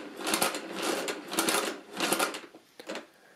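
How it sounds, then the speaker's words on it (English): Crank of a Monroe mechanical calculator (models K, KA or L) turned several times in succession, giving a run of close, loud mechanical clattering bursts with short gaps between them. "So if I enter a number, I turn the crank, the number remains here, so I can turn a few times in succession."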